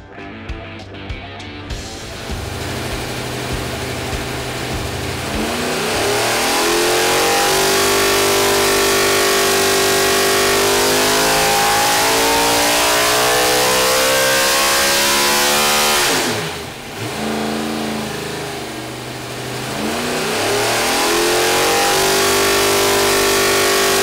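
A 955-horsepower NASCAR V8 fitted with an open carburetor spacer roars on an engine dyno, climbing through a long loud rev sweep, dropping briefly off throttle, then pulling hard again, close and thunderous.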